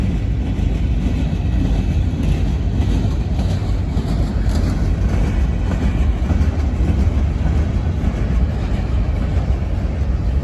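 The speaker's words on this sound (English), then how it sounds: "and here the CSX train comes back" A CSX freight train passes in a rail yard at Kenova, West Virginia, giving a continuous, loud rolling rumble with dense low-end roar and faint clatter across the whole stretch.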